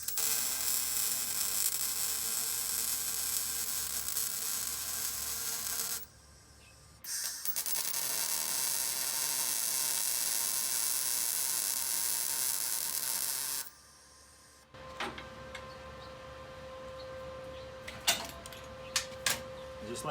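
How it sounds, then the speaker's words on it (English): Arc welding finishes a bead on a recessed metal part after a tack weld, giving two long steady hissing, crackling bursts separated by a short pause, followed by quieter workshop clicks and clatter. "now I'll go ahead and finish out the weld so that it stays completely in place"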